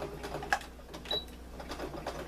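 A sewing machine running a straight stitch through stiff 100% cotton fabric, a faint, soft, rapid whirring with light rhythmic ticks, heard close and alone at a low level.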